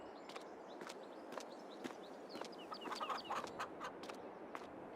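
Chickens in the Farming Simulator 22 game, kept on a European countryside farm, clucking and chirping in a busy overlapping flock with scattered footstep-like taps, steady and fairly close throughout.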